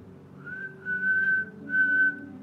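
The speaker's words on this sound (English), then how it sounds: "I can whistle." A person whistles a short, clear melody of a few sustained notes, close and alone, rising and holding in two main phrases.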